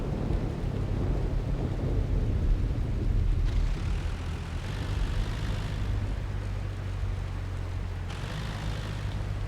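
Rain and thunder in the video game SCUM, a steady broadband wash of rainfall with low rumbling swells that rise and fade, no voices.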